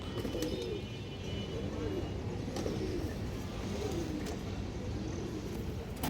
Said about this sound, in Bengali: বিগ সাইজের কবুতর নটটা দর্শক যে দেখেন অনেক চঞ্চল কবুতর